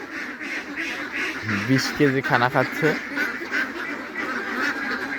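A farm flock of about 250 ducks quacks in bursts of several calls close by, mixed with steady background chatter from the birds while someone talks over them.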